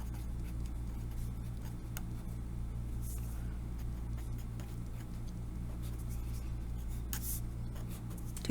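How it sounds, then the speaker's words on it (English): Soft scratching and tapping of a pen writing a math function out by hand, faint and close, with small irregular strokes over a low steady background hum. "I'm going to take my function and write it again."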